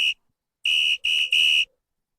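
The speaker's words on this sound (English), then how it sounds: "It's the referee's whistle." A referee's whistle sounds in sharp shrill blasts, one short toot followed after a pause by three quick blasts in a row, loud and alone.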